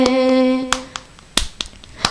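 A sustained sung note fades into a handful of sharp hand claps as a congregation claps along to a worship song at a live prayer service, irregularly spaced and fairly close.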